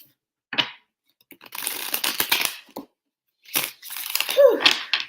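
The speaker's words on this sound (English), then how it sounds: "Two more shuffles." Tarot cards are shuffled by hand in a few short, close riffling bursts separated by pauses, crisp and papery without any talk.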